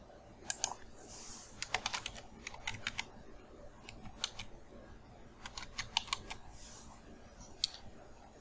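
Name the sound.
typing a heading on a computer keyboard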